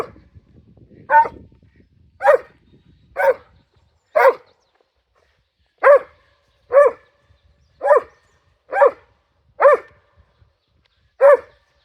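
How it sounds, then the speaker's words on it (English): Pet dogs bark in sharp, loud single barks spaced about a second apart, around ten in all, close by with quiet gaps between them and no talk. "Oh, freaking dogs. They want to be involved in everything."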